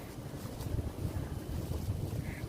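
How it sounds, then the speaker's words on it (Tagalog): Steady outdoor wind rumbles and buffets the microphone near the Singapore National Museum, a constant low roar with no breaks and no voices. "Mahangin."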